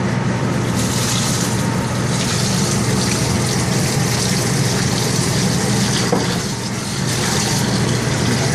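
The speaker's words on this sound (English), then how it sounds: "Add in our water, stir it in" Water gushes steadily into a gumbo pot, a loud, continuous rushing pour that holds evenly for several seconds with a slight dip near the end and no talking over it.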